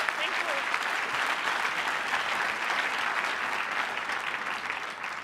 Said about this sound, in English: Round of applause for Isada.